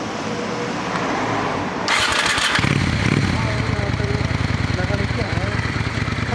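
A custom motorcycle engine cranks and fires up nearby, then settles into a loud, pulsing idle, with people talking beforehand.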